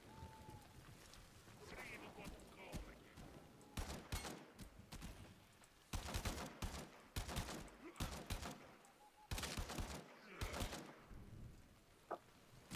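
Pistol gunfire in the video game Warframe, bursts of sharp shots fired in quick clusters with short pauses between, fairly close and loud against quiet game ambience.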